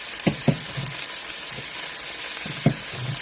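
Onions added to hot olive oil in a pot after searing lamb for a stew, giving a steady, dense frying sizzle with a few soft knocks of stirring over the top, close up.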